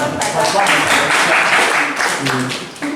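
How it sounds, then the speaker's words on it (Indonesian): An audience in a village cooperative meeting gives sustained applause for a local farmer, dense steady clapping at close range, with voices mixed in. "Tepuk tangan untuk Pak Mareng."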